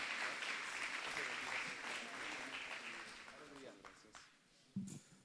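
A church congregation claps after being asked to applaud God for a member's life, the dense clapping strongest at first and thinning out toward the end, where a few scattered claps and a faint voice break through.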